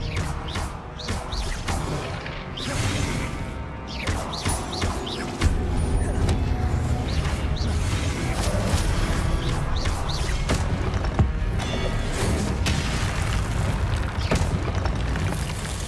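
Spellcasting and combat effects in the Hogwarts Legacy video game, a dense run of booming blasts and crackling impacts that rises and stays loud throughout, with no voices.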